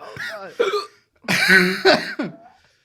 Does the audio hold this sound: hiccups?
yes